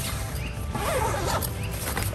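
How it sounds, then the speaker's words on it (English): A zipper drawn open on the ventilation window of a Kamp Rite Compact XL tent cot, a close continuous ratcheting rasp lasting about two seconds, no voices. "These will zip open."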